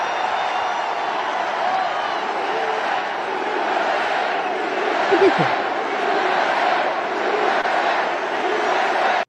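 A huge political rally crowd roars and cheers steadily throughout, a dense wall of voices with no pauses.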